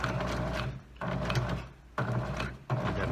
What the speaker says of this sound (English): And then I'm going to lower the foot, and then I'm going to sew across that.